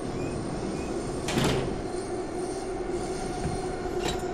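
A metro train runs through a tunnel in a subway simulator game, giving a steady loud rumble of wheels on rail with a brief clunk and screech of metal partway through.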